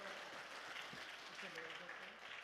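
Welcoming applause fills a church as a visiting pastor comes forward, a steady wash of many hands clapping together at moderate volume throughout.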